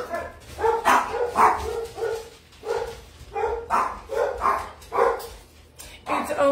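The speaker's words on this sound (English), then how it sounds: "It's only fitting that my dogs decided to bark" Pet dogs barking indoors in a home: a run of repeated loud barks in quick clusters with short gaps between them, close by and alone without talk.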